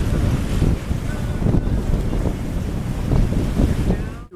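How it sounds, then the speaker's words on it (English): Strong wind roars steadily across a sailboat at sea between Ceuta and Cartagena, a continuous broadband rush with gusty surges, loud and close, with no talk. "The wind's picking up."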